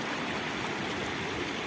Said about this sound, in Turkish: Şurada çağlak yapıyor.